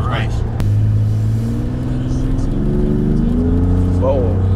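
A Ford F150 truck with an aftermarket exhaust and cold air kit revs up with a rising, loud, rumbling engine note, heard close and continuous throughout.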